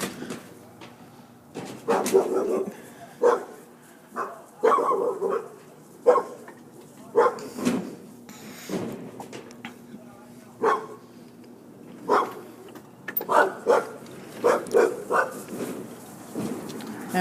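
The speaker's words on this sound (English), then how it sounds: "And of course there's dogs freaking out" Dogs bark frantically near a burning house, loud repeated barks in uneven bursts with occasional whimpers, and voices murmur faintly underneath.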